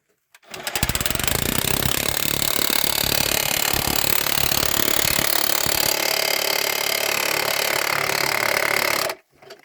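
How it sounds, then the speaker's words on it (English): A bow point power tool chisels into a fire opal seam at an Oregon mine, a loud, continuous rattling hammer that runs nearly unbroken for about eight seconds, close by, then stops abruptly. "So he's going to take that bow point and he's working that seam."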